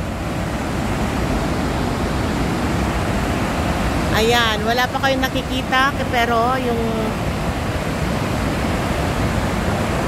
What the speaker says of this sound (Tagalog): naririnig nyo po yung tubig